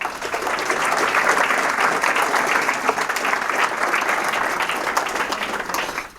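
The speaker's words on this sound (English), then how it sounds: "Can we give another round of applause to Frank Esposito from Nova for his great presentation" Steady applause from an audience after a presentation, a dense wash of clapping that holds loud and even for about six seconds before tapering off.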